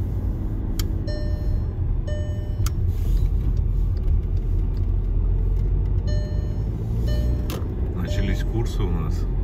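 A car drives along a road during a driving lesson, giving a steady low engine rumble and road noise throughout, close and continuous, with a few faint ticking sounds.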